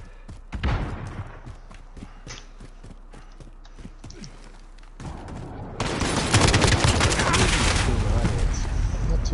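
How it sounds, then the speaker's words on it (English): Single-shot AK rifle fire in Call of Duty: Modern Warfare, sharp spaced shots at first, then a denser, louder burst of gunfire and game effects filling the second half. "the AK is a beast on single shot, but it's so slow to get like rounds down range"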